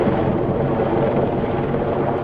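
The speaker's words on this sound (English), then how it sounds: "we flew on Russian Mi-17 helicopters flown by American pilots" Russian-built Mi-17 military helicopters flown by American pilots over an Afghan valley, a steady, loud rotor and engine drone filling the whole stretch without a break.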